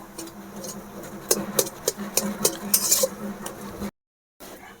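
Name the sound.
stirring garam masala into the paratha filling in a pan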